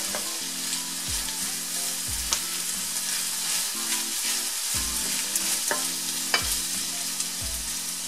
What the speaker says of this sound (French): Et je mélange bien jusqu'à ce que ça soit bien réparti par le tempeh et les oignons.